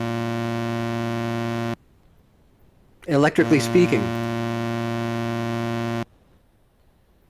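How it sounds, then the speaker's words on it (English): A Marinov motor built from coils and magnets gives a steady electrical hum with strong buzzing tones. The hum cuts out briefly, then returns after a short spoken remark. "just so everybody could hear what that motor actually sounds like"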